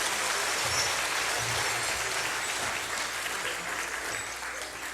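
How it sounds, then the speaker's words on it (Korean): Sustained applause from a church congregation, steady and full throughout, with a low rumble underneath and no talk on top. "다시 한번 박수로 좀 격려 좀 부탁드립니다."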